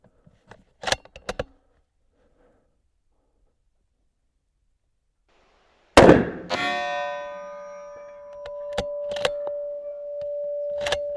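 A .308 rifle fires Federal ammunition: one sharp, loud report after a quiet stretch, then a long metallic ringing like a struck steel target, with a few scattered clicks and knocks.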